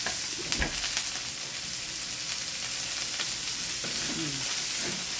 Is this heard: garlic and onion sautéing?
yes